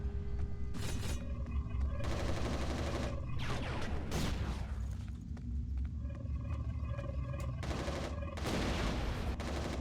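Enemy gunfire in the shooter game Resistance Retribution pops in rapid bursts and fusillades amid dense game effects and music, with a player talking over the action.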